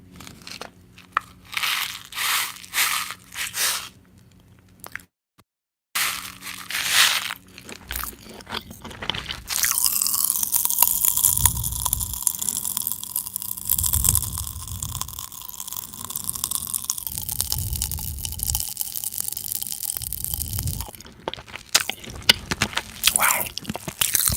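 Pop Rocks candy crackling and fizzing in a mouth while being chewed, a dense close-up stream of tiny pops and crunches with wet mouth sounds, steady and intimate with no speech.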